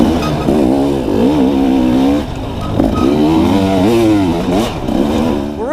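Dirt bike engine racing through a wooded GNCC off-road course at the Tomahawk event, loud and close, its pitch climbing and dipping steadily as the rider shifts and throttles between trees.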